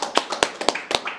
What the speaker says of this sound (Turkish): Arkadaşlarımıza büyük bir alkış